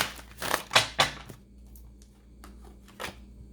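Tarot cards riffle and slap together in a few quick shuffling bursts up close, followed by softer isolated card taps in a quiet room.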